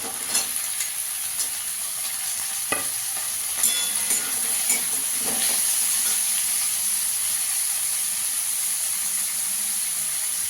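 Potatoes sizzle in a pan with onions and green chilli, a steady hissing fry with scattered sharp stirring clicks and scrapes, close and continuous, with no voices.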